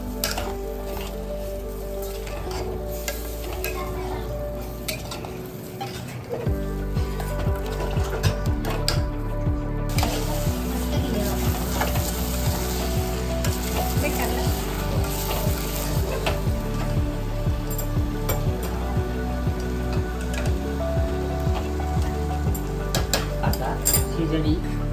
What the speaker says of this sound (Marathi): सगळं तेलामध्ये कलसून घेऊया.